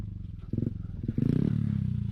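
An enduro motorcycle engine idles and refuses to stall, a steady low rumble that swells into a louder throbbing burst partway through and then holds a thick, pulsing idle to the end.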